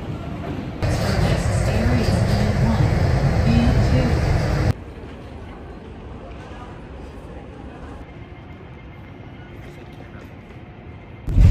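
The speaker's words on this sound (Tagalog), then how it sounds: "dito kami sa train" Hong Kong airport train ride, a loud rumbling carriage roar for several seconds that then drops to a quieter steady hum, with a sudden loud burst at the very end.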